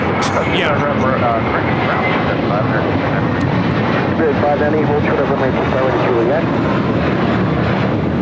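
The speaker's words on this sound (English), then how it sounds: "This is JetBlue 524 taking off to JFK on an A321." JetBlue Airbus A321 jet taking off at LAX, a loud, close roar of engines rising and sustained across the whole stretch, with a brief spoken word over it.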